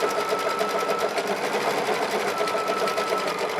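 An embroidery machine stitches a design with a steady, close, rapid whirring and clatter that holds a constant pace throughout, with no other sounds.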